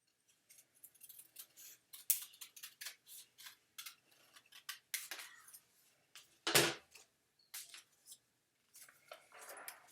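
Scissors snip through folded paper to cut out a leaf shape for a whale-tail craft, a quiet series of short crisp snips at irregular intervals with one louder rustling cut in the middle.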